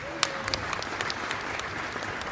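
Applause from the audience at an awards ceremony, a brief burst of crisp, close clapping from a crowd, steady throughout with a few sharper individual claps standing out.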